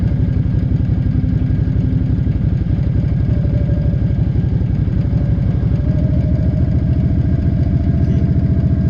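A Suzuki Intruder VL800 V-twin with an erratic-ignition fault idles nearby in a steady, loud, lumpy chug with some mechanical clatter, its pitch shifting slightly as it runs.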